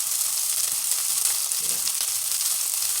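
Green and red peppers frying in a hot pan, a steady close hiss of sizzling oil with faint crackles and a little stirring, continuous throughout and without voices.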